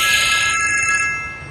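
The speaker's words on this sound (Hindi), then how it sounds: "जैसे ही फोन की घंटी बजती है" An electronic phone ringtone trills steadily at close range, a bright repeating tone that fades slightly toward the end, with no talking.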